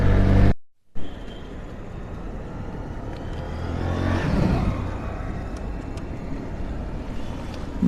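A 2019 Bajaj Dominar 400 motorcycle with a broken gear shift lever weld rides in first gear, its engine a steady rumbling drone with a brief rise in revs, alongside road and wind noise and no talk.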